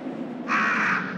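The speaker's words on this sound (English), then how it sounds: "Lots of fucking crows." A single crow caw from the video game Resident Evil 3, one short, harsh call that rings out clearly over a low background hum.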